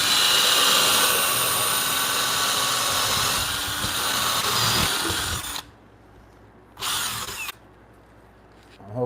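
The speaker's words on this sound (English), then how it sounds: "I'm gonna use the smaller Forstner bit just to take some material out of these two sides down here." A corded drill fitted with a Forstner bit bores into wood, grinding and whining steadily for about five seconds. It stops, then gives one brief burst after a pause and another start at the very end.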